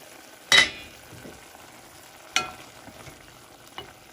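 Mushrooms cooking down over high heat in a pan for marinara sauce, with a quiet steady sizzle broken by a few sharp clatters of stirring, the loudest near the start.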